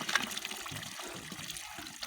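Clothes being hand-rinsed in a bucket of water, faint splashing and sloshing with soft trickles, close and quiet, in short uneven bursts.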